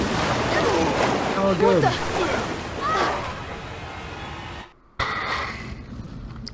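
Rushing water surges through a Resident Evil 6 game level, a broad continuous wash that cuts out briefly near the end and returns, with players talking over it.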